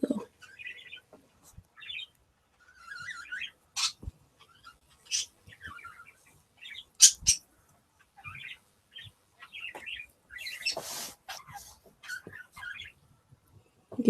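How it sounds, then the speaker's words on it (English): Pet birds in a blanket-covered cage chirp and tweet in the background, scattered short calls and trills spread over a quiet room, with occasional faint knocks and a brief rustle. "You can hear my birds in the back."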